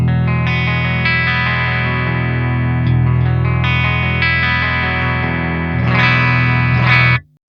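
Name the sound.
Schecter C8 Evil Twin 8-string guitar, voice 2 both pickups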